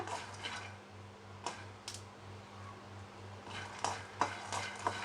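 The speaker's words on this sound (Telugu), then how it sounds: "ఈ విధంగా ఫ్రై చేసుకుంటే సరిపోతుంది" Peanuts fry and crackle in a pan on a kitchen stove, giving soft scattered pops and light stirring scrapes over a steady low hum.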